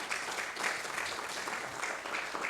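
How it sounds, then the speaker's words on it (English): Audience applauding the judges at UTS Venture Day 2021, a steady wash of clapping from a crowd, moderately loud and continuous throughout without a break. "So a huge round of applause for our judges today"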